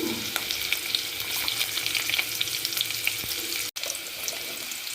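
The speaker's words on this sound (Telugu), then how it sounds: "నెయ్యి కరిగిన తర్వాత మనము ఇందులోకి కచ్చాపచ్చగా దంచి పెట్టుకున్న వెల్లుల్లి రెబ్బలను యాడ్ చేసుకోవాలి" Crushed garlic frying in melted ghee in a pan, a steady close sizzle and hiss with light scraping and stirring throughout, then a brief cut near the end.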